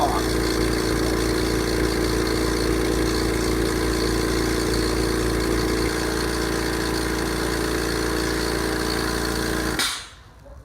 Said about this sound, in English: the compressor turns on. Your compressor turns on.